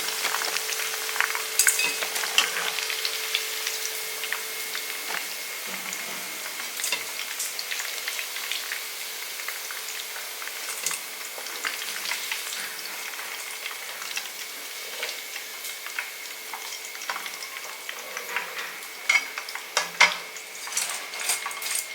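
Cauliflower fries in hot oil, a soft continuous sizzle with scattered crackles and pops, now and then joined by light clinks of a utensil against the pan, close and fairly quiet.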